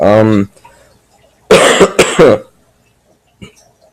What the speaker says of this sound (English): Sorry I can't edit the coughing out